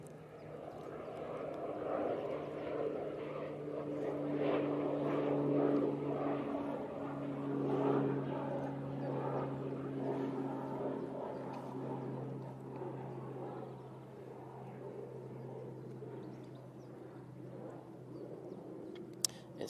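A Pilatus PC-12 propeller plane flies past near Manchester Airport, its steady droning engine hum with sustained tonal whine rising and fading over about twenty seconds, with faint voices and background chatter beneath.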